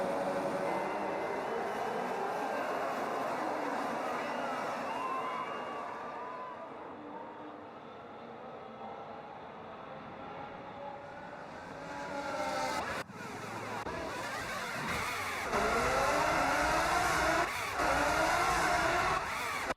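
Lamborghini race car engines in the F1 25 video game at a race start: a dense, loud mechanical drone that swells near the end into rising, revving pitch sweeps as the cars accelerate away.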